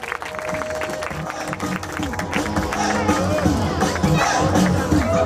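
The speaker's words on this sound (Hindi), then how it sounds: "जनाब बाबर खान साहब भरपूर तालियों के इस्तकबाल करो।" An audience at a religious public gathering claps, a scattered applause that swells and grows louder over a few seconds, mixed with crowd murmur.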